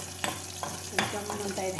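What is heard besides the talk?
curry leaves spluttering in hot oil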